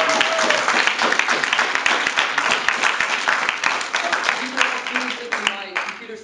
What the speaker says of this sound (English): would you guys mind giving these guys a round of applause?